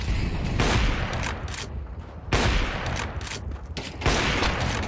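Rapid gunfire bursts from the Counter-Strike video game, loud and close, with several sharp volleys separated by brief gaps, including AWP sniper rifle play.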